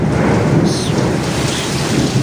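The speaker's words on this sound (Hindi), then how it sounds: "तूफ़ानी बारिश है यार," Heavy stormy rain pours down in Jeddah, Saudi Arabia, a loud, dense roar of falling water with a deep thunder rumble underneath, no voices.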